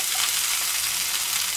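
Cooked spätzle tossed into a hot pan to toast briefly, giving a loud, even sizzle and crackle of frying throughout with no talking.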